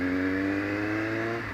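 Kawasaki Z750 motorcycle fitted with a sport exhaust, its engine idling in a steady, deep droning hum with a low rumble, close and continuous for a brief moment.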